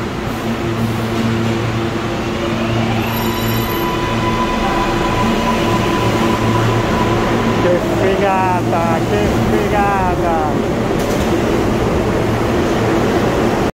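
A New York subway car, a Supreme-branded carriage, rolls along with a loud, continuous rumble and rattle, with high squealing wheel chirps around the middle and a steady hum throughout.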